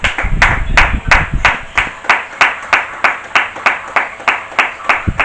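A church congregation claps in steady unison, about two sharp claps per second, loud and close, with a burst of applause at the start before settling into the even rhythm.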